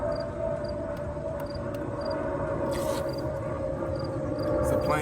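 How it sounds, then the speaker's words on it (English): An airplane passes overhead outdoors, a steady broad droning rumble with a faint whine that holds throughout and swells slightly toward the end. "It's a plane flying over me right now,"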